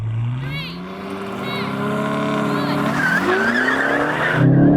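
An Aston Martin V12 car accelerates hard in a drag race, its engine note rising through the revs and dropping at a gear change to second before climbing again, loud and close.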